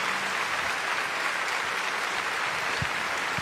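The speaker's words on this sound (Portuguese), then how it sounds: "quem não tem, aplauda o Senhor." A church congregation applauds during mass in a steady, even wash of clapping from a large room, with a couple of low thumps near the end.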